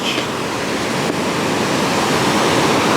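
Surf washes onto a beach beside rock pools in a steady, loud roar of breaking waves mixed with wind buffeting the microphone, with no voices.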